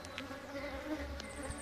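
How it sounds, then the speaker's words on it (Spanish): Agitated honey bees at an apiary buzz close by in a dense, continuous drone, with individual bees flitting past the ear; no talk is heard. "Esas son las veces que más se alborotan las abejas."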